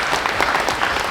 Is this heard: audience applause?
yes